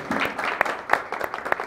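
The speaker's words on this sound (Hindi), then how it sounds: "इसलिए उनके लिए जोरदार तालियां।" Brief applause at a party celebrating a TV show's 100th episode: scattered clapping with a few sharp claps standing out, mixed with crowd voices and lasting under two seconds.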